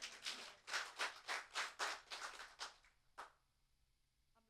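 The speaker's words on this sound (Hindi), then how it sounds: "आमेन चर्च, जोरदार ताली प्रभु को दे।" A church congregation at a Palm Sunday service claps loudly in steady rhythmic bursts for a few seconds, then falls quiet apart from one last clap and a faint tail.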